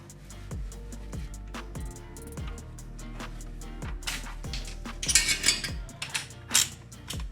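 Repeated ratchet clicks from a socket wrench on a long extension loosening a rear shock bolt on a 2014-2017 Chevy Caprice PPV police car, a steady run of close, crisp ratcheting strokes building to louder metallic clanks near the end.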